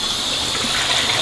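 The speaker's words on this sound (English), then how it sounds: "So what we're going to do is drain the tomatoes here." Hot water drains off boiled tomatoes in a short, steady gushing pour lasting about a second.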